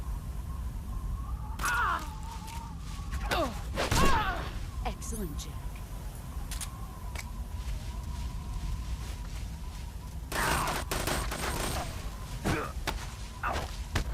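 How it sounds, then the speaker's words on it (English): Gunshots from Metal Gear Solid 3 on the Nintendo 3DS ring out as a few sharp, punchy bursts scattered over a steady background hum of game ambience. "let's just shoot her once"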